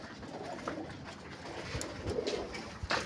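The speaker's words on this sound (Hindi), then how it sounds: "बड़ा आउट क्लास ये वैशी नीलदुम्बा कबूतर है।" Pigeons, including a Wasi Neeldumba, coo on a rooftop loft. Soft, faint throaty coos repeat over a few seconds against quiet background noise, with no speech.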